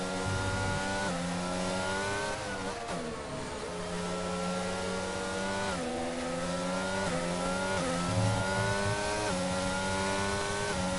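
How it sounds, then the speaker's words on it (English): An Aston Martin race car in F1 22, racing at Great Britain, screams at high revs with rapid upshifts, its engine pitch climbing and dropping in quick repeated steps, loud and continuous throughout. "A lot of shifts ongoing on board with the Aston Martin."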